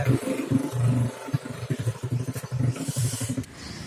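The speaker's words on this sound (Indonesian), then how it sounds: "berisik betul ada motor lewat nih." A motorcycle passes by a workshop, its engine burbling loudly in uneven pulses for a few seconds before fading slightly.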